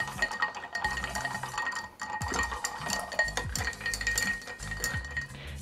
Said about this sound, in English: I'm going to grab a couple cubes of ice, and we're going to stir this a little bit.